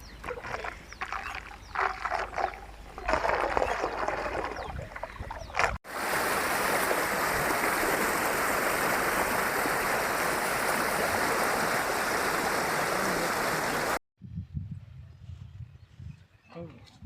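Water rushes through a small stream channel near Botad, a loud, steady broadband roar lasting about eight seconds, framed by quieter outdoor passages where voices are heard.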